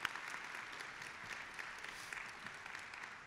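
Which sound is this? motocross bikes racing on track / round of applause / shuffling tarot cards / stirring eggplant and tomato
round of applause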